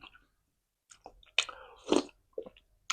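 Biting and crunching on crispy pork eaten with a thick, rich noodle soup, heard as a few close, sharp crunches separated by short pauses and quiet mouth sounds.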